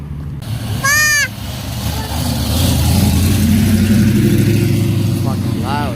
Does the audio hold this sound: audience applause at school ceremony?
no